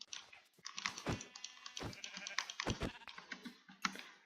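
Sheep bleat in a Minecraft game, several short nasal cries spread across a few seconds alongside some clicky keyboard or mouse noise.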